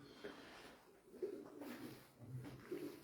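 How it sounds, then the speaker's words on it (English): Pigeons cooing in a dirty, droppings-covered spot, several low soft coos repeating close by over a faint background murmur. "There's a lot of pigeon there."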